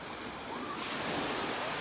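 Ocean surf breaking on a beach at low tide in North Naples, Florida, a steady broadband wash of waves with some wind noise, continuous and fairly close throughout.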